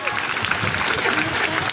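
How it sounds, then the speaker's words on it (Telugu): Dense audience clapping at a local association event, a loud, continuous patter of many hands throughout the short stretch. "గట్టిగా క్లాప్స్ కొట్టండి"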